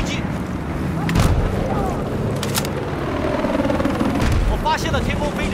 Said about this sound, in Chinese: 发现了天空飞着一个敌军飞机，